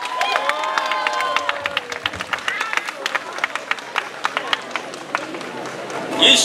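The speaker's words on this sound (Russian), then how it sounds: "Аплодисменты!" A concert audience claps and cheers after a dance by the Kalinka ensemble is announced, producing sharp, scattered hand claps close by with crowd voices and murmuring underneath.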